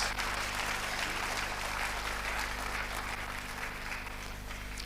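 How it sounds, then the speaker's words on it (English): Audience applause for Edo State at a teachers' certificate award ceremony, a continuous, moderately faint patter of many hands clapping over a low steady hum, without speech. "I invite a round of applause for Edo State"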